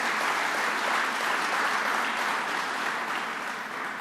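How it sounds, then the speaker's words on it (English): An audience claps for Vivian Cook at a governor's event on a transit worker assault bill, a dense, sustained round of applause from a sizable indoor crowd that holds steady and eases slightly toward the end. "So let's give Vivian a round of applause."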